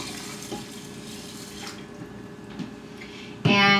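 Water runs and splashes softly as it is poured onto rice, a low continuous trickle, ending with a brief louder clattering burst.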